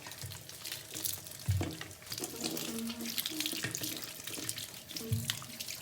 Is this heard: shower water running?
yes